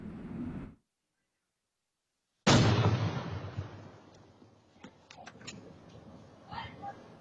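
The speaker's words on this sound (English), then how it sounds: "a loud explosion in the city here prompted police to eventually call the Toledo Bomb Squad" A sudden loud boom from chemicals mixed in a blender cuts in after a brief silence, followed by a rumbling, noisy aftermath with faint voices and scattered sharp clicks.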